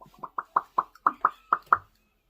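A voice makes a quick series of about nine popping, plucking mouth sounds in a steady rhythm, imitating chicken feathers being pulled out.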